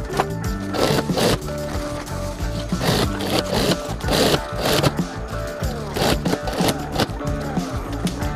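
A sewing machine stitches fabric for a handmade dhol bag, with a busy rhythmic clatter in repeated bursts that pause and restart, set close and loud.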